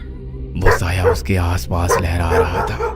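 A dog barks and whimpers near a long-closed church in a horror story sound effect, the yipping barks repeating under someone narrating in Hindi with eerie background music.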